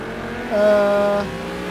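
A McLaren's engine drones steadily in a racing video game, rising briefly in a sustained rev before settling back, loud and close, with no talk.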